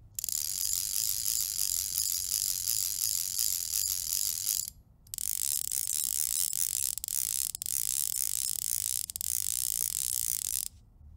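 A Ross Cimarron fly reel ratchet buzzes in fast continuous clicking as line is pulled off, close and steady, with a brief pause midway and a few short dips, no talk.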